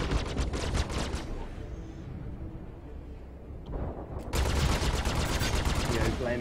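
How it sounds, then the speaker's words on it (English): Rapid automatic chain-gun fire from a ship in the space combat game Star Citizen, bursts of dense rattling shots that pause midway and resume loud and sustained near the end. "Wow, they put the chain gun back on it."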